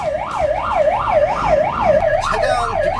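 A fire engine siren on an emergency call-out during a simulated fire dispatch drill in Busan. It wails loudly and steadily in rising and falling sweeps and carries on without a break for the whole stretch.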